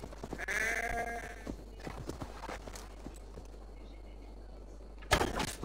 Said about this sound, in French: Ah, un petit mouton.